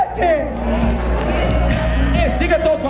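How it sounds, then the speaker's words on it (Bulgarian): Crowd cheers and applauds at a Red Bull Soapbox race in Bulgaria, a dense steady roar of voices and clapping, with an announcer's voice talking over it throughout. "Вашите аплодисменти!"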